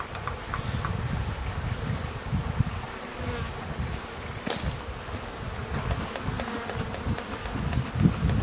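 Honeybees buzz around an open beehive, a dense, continuous drone close by with individual bees droning past and faint rustling, no talk.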